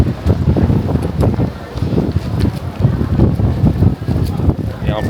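Wind gusts outdoors in Seoul, rumbling and buffeting the microphone continuously, with people talking underneath.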